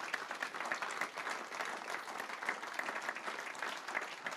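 Audience applause for five regional election candidates after a 2021 round-table debate, steady dense clapping throughout at an even, moderate level.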